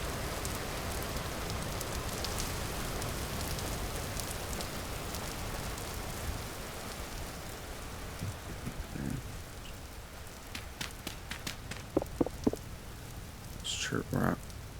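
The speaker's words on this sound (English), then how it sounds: "In the rain, I might have to turn the rain sounds down." Steady rain falls in the survival game Vintage Story, a dense even hiss that thins slightly later on, with a few short digging or clicking sounds near the end and a voice talking over it.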